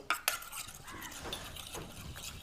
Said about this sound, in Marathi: आणि थोडंसं हे असं चमच्याने ना फेटायचंय आपल्याला